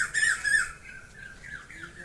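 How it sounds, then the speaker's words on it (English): A great egret gives two harsh, close squawks in quick succession, followed by quieter background sound. "Great egret,"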